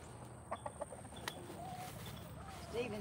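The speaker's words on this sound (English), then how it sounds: "Now, these are some bad chickens." Chickens, including a small bantam-type rooster with spurs, cluck in a few short bursts close by over a quiet outdoor background.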